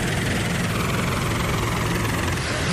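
A rescue helicopter flies over a flooded rural area where houses are under water, its engine and rotors making a steady, loud, dense drone that continues without pause.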